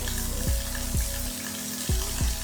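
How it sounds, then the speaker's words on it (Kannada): Okra coated in gram flour sizzles in oil in a pan, a close, steady frying hiss broken by a few short clinks and scrapes. "ಅದೇ ಪ್ಯಾನ್ಗೆ ಒಂದು ಸ್ಪೂನ್ ಆಗಷ್ಟು ಆಯಿಲು ಹಾಕಿ ಕಡಲೆ ಹಿಟ್ಟು ಕೋಟ್ ಮಾಡ್ಕೊಂಡಿರುವಂಥ ಬೆಂಡೆಕಾಯನ್ನು ಹಾಕಿ ಫ್ರೈ ಮಾಡ್ತೀನಿ"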